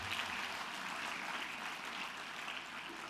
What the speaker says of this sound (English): I think all of us need to clap for the choir again.